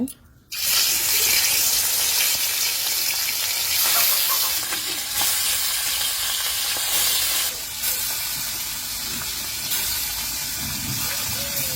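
A loud, sudden burst of hissing oil gives way to a steady, strong sizzle of fish frying that continues throughout.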